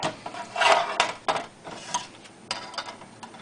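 Metal mould for casting carp fishing leads being clamped shut, heard as several close, light metallic clicks and clacks spaced irregularly, with no voices.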